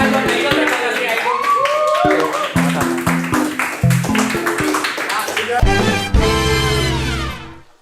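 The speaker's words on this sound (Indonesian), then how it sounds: "Tepuk tangan dulu buat Oksa." An audience at an Indonesian talk show taping claps in quick, crisp bursts, close and lively, while people talk and laugh over and between the claps.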